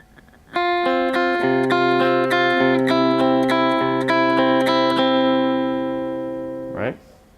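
An electric guitar plays a riff from a song: a steady run of clean, ringing picked notes over several seconds that fades out at the end, followed by a short scrape.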